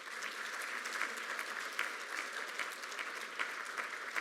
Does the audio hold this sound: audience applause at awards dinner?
yes